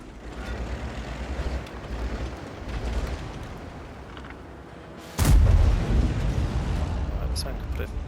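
The SU-130PM tank destroyer's cannon in World of Tanks fires one heavy, booming shot midway, loud and close, followed by rumbling engine and battle ambience that continues throughout.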